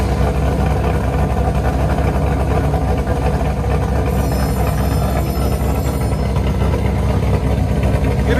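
A 2019 Chevy Camaro SS with a 6.2L V8, true dual exhaust, long-tube headers and straight pipes idles with a steady, loud, continuous low rumble throughout, with no talking.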